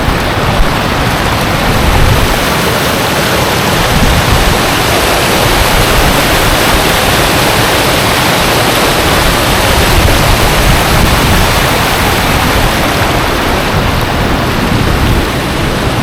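Small waterfall of overflow water spilling from Kuppanatham dam in Tiruvannamalai, a loud, steady, close rushing roar with no pauses.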